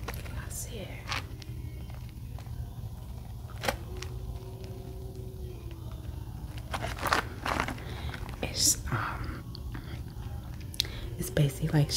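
Crushed shaved ice nuggets crunched in the mouth up close, with repeated crisp bites and chewing bursts over a steady low hum, alongside soft whispering.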